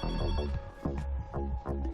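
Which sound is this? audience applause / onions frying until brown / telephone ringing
telephone ringing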